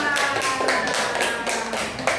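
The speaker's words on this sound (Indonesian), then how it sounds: "kasih tepuk tangan dulu untuk ketua" Classroom applause for a group leader after a student presentation, a dense run of hand claps in bursts lasting about two seconds, fairly loud and close, with no talk over it.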